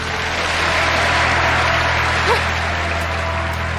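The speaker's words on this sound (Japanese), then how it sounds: "戦い終えた二人に場内割れんばかりの拍手が送られます。" Dense, sustained applause from a large arena crowd after a judo match between two fighters, a steady loud roar of clapping throughout with no pauses.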